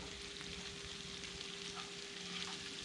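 Garlic and onion frying in a pan before shrimp go in for scampi, a soft, steady sizzle with faint crackles throughout, fairly quiet and with no voices.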